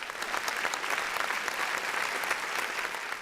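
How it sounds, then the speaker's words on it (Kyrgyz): Studio audience claps steadily on a televised quiz show, a dense, even round of applause that fills the whole stretch without any voices on top. "Куттуктайбыз, кол чаап коюңуздар."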